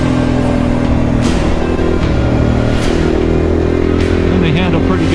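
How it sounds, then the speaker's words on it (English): A Husqvarna 450 dual sport motorcycle runs steadily on the road, its engine droning close and loud with small shifts in pitch, while wind noise and a voice are heard over it. "this is part of the fun of having a dual sport bike. Ride the highways, ride the dirt"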